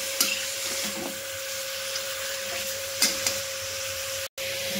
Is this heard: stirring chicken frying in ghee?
yes